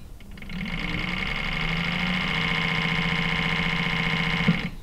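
An Enerpac E-Pulse electric hydraulic pump running at reduced motor speed, a steady close whirring hum with a bright tonal whine that holds evenly for several seconds before stopping.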